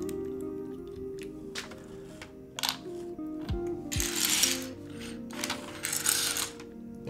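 Keyboard keycaps are handled, giving scattered plastic clicks and light rattles with a few short bursts of clattering, close and quiet against a low steady hum, with no talk.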